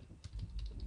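Quiet, rapid clicks of a computer keyboard being typed on, soft and close with an uneven rhythm of keystrokes.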